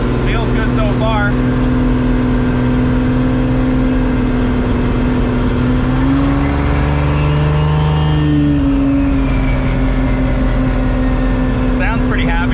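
A 1500-horsepower street car engine runs steadily up close, with a deep continuous drone and a brief rise in revs midway.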